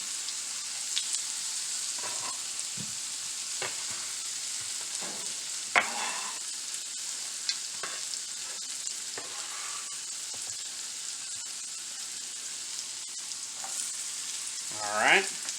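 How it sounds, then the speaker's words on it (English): Onions fry in melted butter in a pan with a constant fine sizzle, dotted with scattered spatula scrapes and clicks and a louder stirring scrape at the close. "we're going to take all that onion we just cut and dump it straight into this pan"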